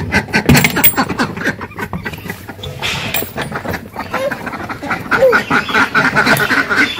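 Farm ducks being let out of their pen quack in a noisy, overlapping chorus close by, with people's voices and rustling movement mixed in throughout.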